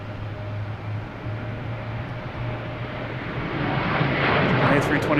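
An Airbus A321 airliner at Boston Logan Airport gives off a steady, broad engine roar with a low hum, growing gradually louder toward the end, with no voices over it.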